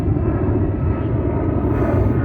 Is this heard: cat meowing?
no